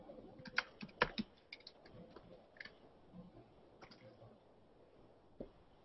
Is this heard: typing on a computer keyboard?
yes